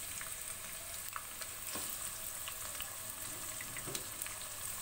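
Finely sliced onions, three medium ones, frying in heated oil in a pan for bhuna keema, giving a constant soft crackling sizzle with a few light stirring clicks.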